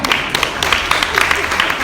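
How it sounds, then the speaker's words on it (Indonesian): Clapping from a church congregation during a service, a dense stretch of many hands applauding, fairly loud with irregular sharp peaks over a steady background murmur. "tepuk tangan."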